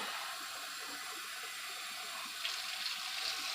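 Water pours in a steady, quiet hiss into a rice cooker with quinoa, with a slight splashy change near the end; no voices.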